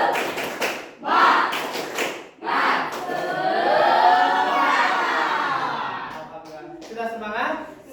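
A group in a classroom-style session performs a rhythmic spirit-clap routine, with bursts of sharp claps in a set pattern mixed with voices chanting and shouting together, loud and close.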